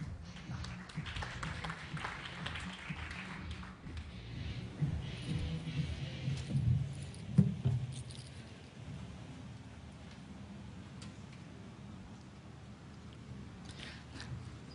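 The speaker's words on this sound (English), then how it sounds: "Round of applause for him." Audience applause at a startup pitch expo: a steady wash of clapping hands from a crowd, fairly soft and distant, swelling slightly in the middle before settling into an even patter.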